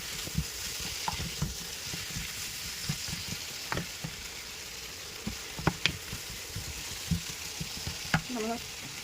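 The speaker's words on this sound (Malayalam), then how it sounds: "ഇപ്പോൾ നമ്മൾ പൊട്ടറ്റോയും കൂടെ ആഡ് ചെയ്തതുകൊണ്ട് കുറച്ചും കൂടെ ഉപ്പ് നമുക്കൊന്ന് ഇട്ട് കൊടുക്കാം. ഇനി ഒന്ന് മിക്സ് ചെയ്ത് കൊടുക്കാം." Chicken curry with potatoes and salt stirred in a sizzling pan, a spoon scraping and clinking in irregular strokes over a constant close frying hiss.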